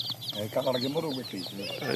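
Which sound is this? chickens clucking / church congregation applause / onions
chickens clucking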